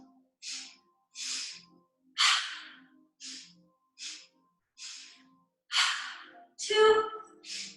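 Yoga breathing close to the microphone, a run of sharp, breathy nasal inhales and exhales in an even rhythm, nine bursts separated by short silences, the later breaths louder and longer, one ending in a throaty voiced exhale.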